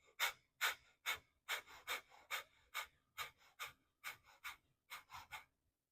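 Rhythmic nasal breathing during a nose-only breathing exercise, about a dozen sharp, forceful inhale-exhale pulses in quick steady succession, close and clear with no talking.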